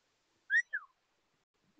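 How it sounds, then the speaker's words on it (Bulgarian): A person whistles two short, bright notes in near silence, followed a moment later by a single soft knock. "не свиркай."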